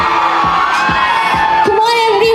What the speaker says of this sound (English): a big round of applause for Lavanya